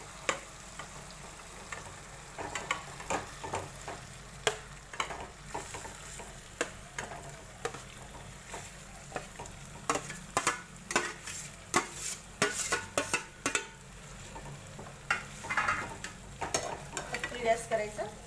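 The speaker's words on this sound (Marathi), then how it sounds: "त्याच्यात हे आपण मॅरिनेशन केलेलं चिकन टाकूया." Marinated chicken goes into fried masala in a kadhai, giving a continuous sizzle and frying hiss, broken by repeated scraping stirs and clinks of a utensil against the pan, close and fairly loud, with no talking.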